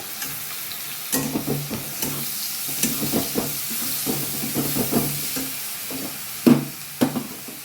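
Ground onion paste fries in hot oil in a pan and is stirred for a sponge gourd and prawn curry, with soft sizzling and repeated close scrapes and clacks of the spoon against the pan.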